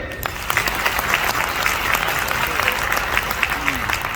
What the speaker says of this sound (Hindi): जोरदार ताली अपने लिए बजाओ